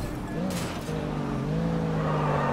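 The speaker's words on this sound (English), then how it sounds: "Car doesn't sound so great." A car engine hums steadily while driving in Sleeping Dogs, its pitch wavering and slowly rising, with game sounds mixed in underneath.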